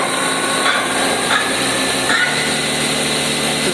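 A machine spindle motor runs at high RPM, around 6000, its gearing oil-filled, giving a loud, steady whine and hum close by with a few faint periodic ticks, no speech.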